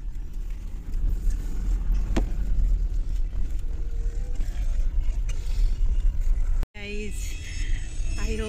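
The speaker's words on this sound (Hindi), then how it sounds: "गाड़ी खुल गया है, एक गाड़ी आगे भी है" Car setting off on a road in West Bengal, India, a continuous low engine and road rumble that holds steady, with a sharp cut near the end followed by a voice.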